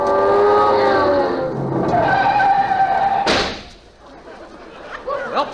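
Comedic sound-effect car driving off: a wavering engine whine that rises and strains, then a sharp crash-like burst and fading rumble, followed by faint chirps.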